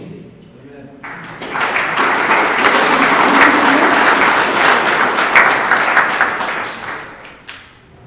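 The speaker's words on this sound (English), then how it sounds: "people were clapping" Audience applause fills a convention hall, starting abruptly after a short pause and holding steady and loud for several seconds before thinning out into scattered claps at the end.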